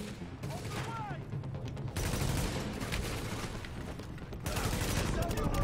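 Burst-fire gunshots in The Division, rapid clustered volleys cracking loudly in repeated bursts with brief gaps, dense and close, with a voice talking faintly underneath.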